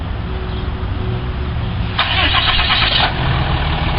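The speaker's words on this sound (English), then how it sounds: "That button right there, the starter button, starts right up." A 2014 Ram 2500 Heavy Duty 6.7L Cummins turbo diesel is remote started and cranks over, then settles into a steady close idle with a loud clattering burst partway through.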